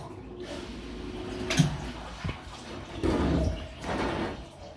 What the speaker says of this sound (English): you just want to run the water in there from your nozzle without the air until it's full